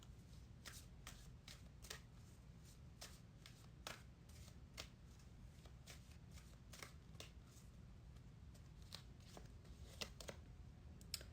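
Tarot cards being shuffled by hand, a quiet, close series of crisp riffling snaps and soft flutters repeating at an irregular but steady pace, alone with no talk.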